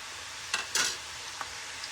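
Chana dal frying in hot oil, a faint continuous sizzle with a couple of short stirring scrapes, alone without speech.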